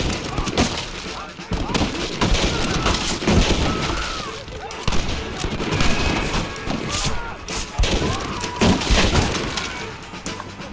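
Rapid game gunfire from Red Dead Redemption in a Western shootout, a dense, continuous barrage of shots and impacts with sharp bursts, heard under shouted voices.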